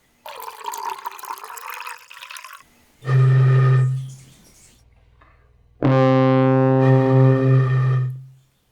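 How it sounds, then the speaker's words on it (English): Water glugs and splashes as it is poured out of a bottle, then a person blows across the bottle's mouth, sounding two sustained, breathy hooting notes with a pause between them. "So I'll pour some water out to make the volume bigger and the note a little"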